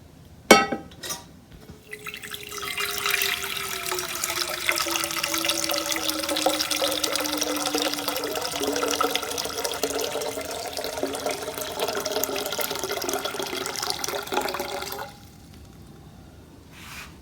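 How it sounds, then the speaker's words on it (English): Water streams from the tap of a Berkey gravity water filter into a container, beginning with a knob click and a few drips, then a steady close pour with a rising tone as it fills before abruptly stopping. "we turn a knob and we get the water rolling."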